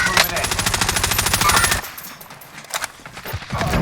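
Automatic gunfire rattles in Call of Duty: Warzone Pacific, a fast, loud burst of rapid shots lasting nearly two seconds, followed by quieter scattered game sounds and faint clicks.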